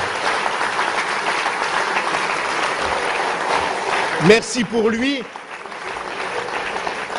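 An audience at a politician's speech on Europe breaks into steady, dense applause that fills the room, then a voice speaks briefly as the clapping trails off.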